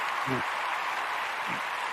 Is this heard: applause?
yes